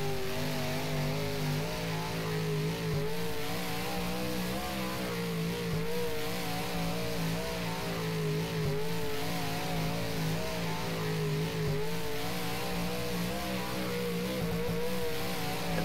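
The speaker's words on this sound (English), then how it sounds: "Our old engine's working pretty hard, but that's alright." A Street Stocks race car engine in rFactor at East Bay drones steadily and close, its pitch repeatedly climbing and dipping as it works hard toward the limiter.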